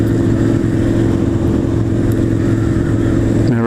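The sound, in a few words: motorcycle shifting down a gear while riding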